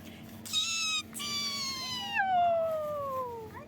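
Several cats meow close by while being fed, overlapping high drawn-out cries that slide downward, one after another.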